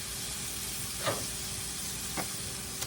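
Beef tips browning in a hot pan give off a steady, broad sizzle, with a couple of brief louder crackles or stirs standing out over the continuous frying hiss.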